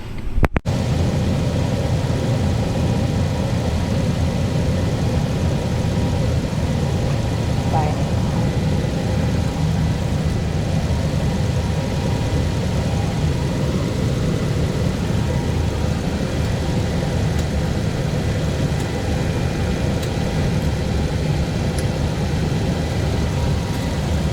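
A Toyota Sequoia or Tundra, first generation, idles steadily throughout with a low, even engine rumble, close by and continuous without pause.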